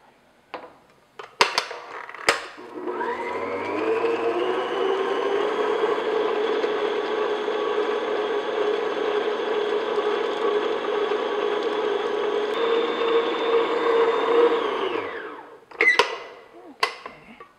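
An electric hand mixer beats butter with light brown sugar for peanut butter cookies, a steady motor whir running about thirteen seconds between brief clicks and knocks at the start and end.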